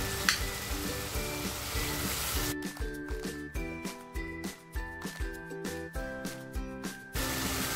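Turmeric goes into hot oil for vajri pulao with a steady sizzle that turns into a rhythmic crackle, broken by the regular scrape of stirring.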